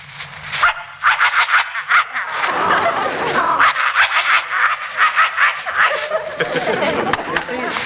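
A man imitates a snarling, vicious dog, with rapid growls and harsh barks in a continuous, aggressive burst, loud and close.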